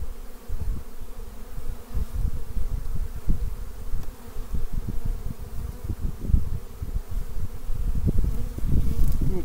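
Honeybees hum steadily from a colony opened in a cold, late spring, with framed brood and drones inside; a dense, continuous close-up buzz with shifting swells fills the whole stretch, no voices.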